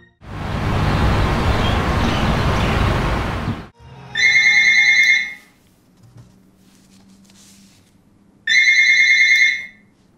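A mobile phone ringtone plays in two separate bursts, each about a second long, sounding clearly and fairly loud after a stretch of heavy broadband noise, with quiet gaps between the rings.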